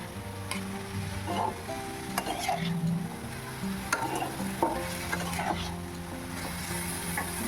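Cumin seeds and chilies tempering in hot oil for a simple vegetable curry, a continuous crackling sizzle broken by repeated sharp clacks and scrapes of a spatula against the pan.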